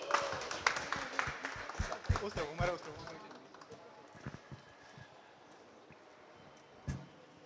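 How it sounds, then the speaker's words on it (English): Applause from an audience at a product launch event as a guest is called on stage, a burst of scattered clapping that is loud for the first three seconds, then thins and fades, with a brief late flurry. "ladies and gentlemen, please, a massive round of applause, please"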